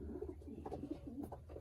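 Pigeons kept as nomination birds coo softly in a low, rolling burble, several overlapping calls close by but quiet, with faint background noise.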